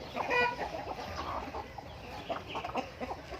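A six-month-old rooster clucks and calls in short bursts close by, with faint background noise and no talking.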